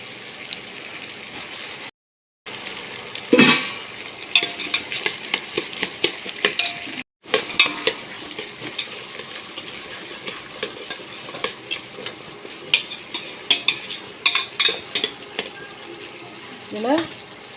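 Curry leaves tossed into hot oil for a chicken gravy, with sharp crackles and bursts of spluttering, a spoon scraping and stirring the pan, and brief gaps in between.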